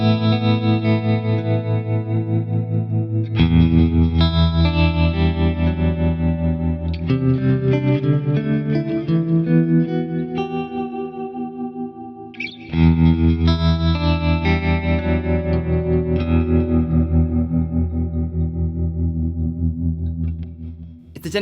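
Electric guitar played through a Boss Katana amp with high gain boosted for a glassy ambient tone, sustained chords washed in chorus, echo and reverb, loud and alone.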